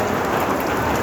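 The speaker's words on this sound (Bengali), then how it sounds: "প্রচুর বৃষ্টি হচ্ছে" Heavy rain pouring down steadily, a dense continuous hiss of drops beating on surfaces, close and loud with no pauses, with hailstones falling along with it.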